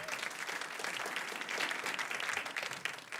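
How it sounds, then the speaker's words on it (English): Audience applause at a student television awards event, steady dense clapping from a full room, sustained and even for a few seconds with no talk. "So let's give her another round of applause."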